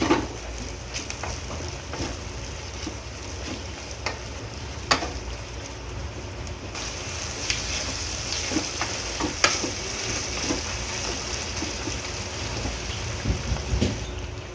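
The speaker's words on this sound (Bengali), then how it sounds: "এবার রসুন বাটাটা দিয়ে দিলাম, দিয়ে নেড়ে নেব" Garlic paste sizzles and crackles steadily in a hot pan for a chili chicken dish, with occasional louder scrapes and clicks from stirring over the continuous frying hiss.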